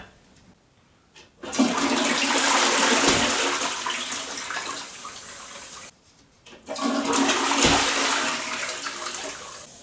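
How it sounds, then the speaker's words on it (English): A toilet cistern with a new top-fixed push-button flush valve is flushed twice: each time a loud surging gush of water drains away and then tapers off, with a short quiet gap between the two flushes. "I've now given the toilet a few flushes and there's no problems."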